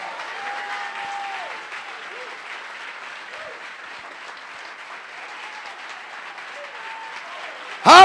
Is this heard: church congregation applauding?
yes